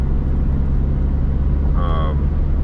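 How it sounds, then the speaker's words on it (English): A steady, loud engine drone inside a moving 1987 Dodge Shelby Charger, with a brief whistling turbo flutter rising over it near the end. "I don't know if you can hear that turbo noise. It sounds great."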